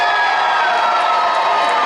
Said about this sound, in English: the crowd now showing their disapproval to Ricky here as he's up in the turnbuckle